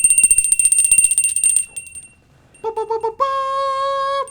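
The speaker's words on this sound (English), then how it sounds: "It's time to ring the titty bell." A novelty bell is rung with a sustained bright ringing tone that swells loud after a stretch of rattling noise and a brief pause, holding steady to the end.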